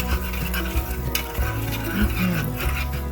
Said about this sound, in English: the cheesy chili dip just came out of the oven. Get it stirred around.